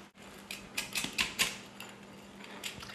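A knife or cutter slicing through a homemade whole wheat and flax pizza crust, a quick series of crisp crunching cuts in the first second and a half, then quieter scraping.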